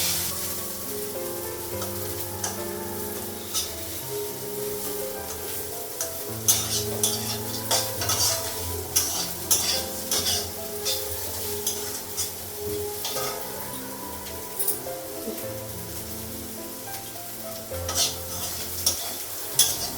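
Bitter gourd sizzles steadily in hot oil in a pan. A continuous, close crackle with scattered stirring clinks runs throughout, and no one speaks.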